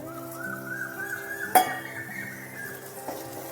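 Mung dal mixture with paneer being stirred in a pot after warm water is added, a quiet steady scraping with a sharp clink of the spoon against the metal partway through and another at the end.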